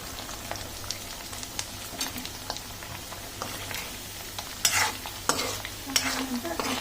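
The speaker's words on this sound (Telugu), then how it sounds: "ఇది కొంచెం గోల్డెన్ బ్రౌన్ వచ్చేంత వరకు వేపుకోవాలన్నమాట." Colocasia (taro) pieces deep frying in hot oil until golden brown, a steady sizzle broken by a few louder crackling bursts and faint stirring, heard alone with no talking.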